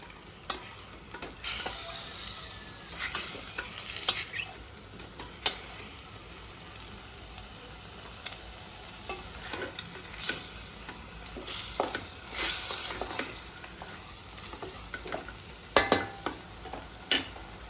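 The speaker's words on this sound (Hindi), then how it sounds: "अच्छे से हमें इसको मिक्स कर लेना है। चिकन कलर चेंज कर ले वहां तक हमें वेट करनी है।" Chicken pieces stirred and frying in a pan on a low flame, a continuous sizzle broken by repeated scraping and clinking stirs, close and without voices.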